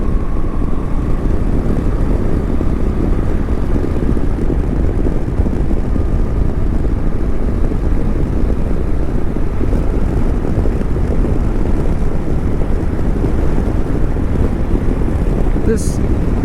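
Riding a 2015 Honda NC700X motorcycle behind its windscreen: loud, constant wind roar buffets the microphone over a low engine drone, steady throughout with no talk.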